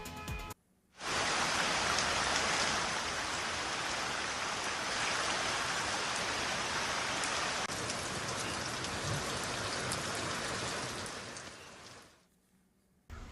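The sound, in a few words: heavy rain falling in Sindhudurg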